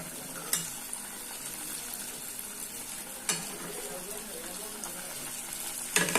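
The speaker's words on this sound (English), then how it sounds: "So the oil is hot now. The chicken is going inside." Chicken pieces frying in hot oil for homemade KFC-style fried chicken, a steady close sizzle broken by a few sharp pops and spatters.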